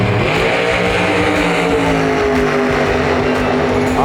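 Loud race cars at a dragway, a close, heavy engine roar with a steady rumbling drone, rising and falling as the engines rev.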